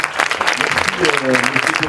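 Brief audience applause at a sports conference, clapping mixed under someone speaking a short thanks.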